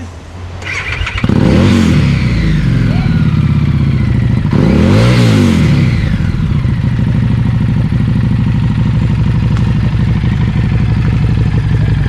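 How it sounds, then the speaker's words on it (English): A Harley Davidson Street 750 motorcycle with a Screaming Eagle exhaust starts with a clatter, then the rider gives two deep, throaty revs before settling into a loud, rumbling idle up close. "That's the Screaming Eagle exhaust for the Harley Davidson Street 750."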